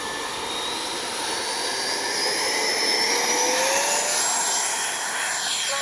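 Freewing 90mm RC F/A-18C model jet on its takeoff run, a steady loud turbine-like whine and rushing roar that holds throughout, with rising and falling pitch sweeps as it passes.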